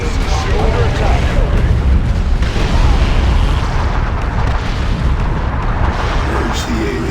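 A Thunderhawk bombing run in Dawn of War 2 rains continuous explosions, a loud, dense roar of blasts and rumbling booms that never lets up, with faint crackles layered on top.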